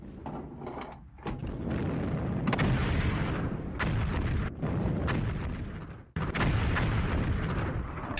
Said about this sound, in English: after several rounds of fire from German artillery, the full assault on the city commences.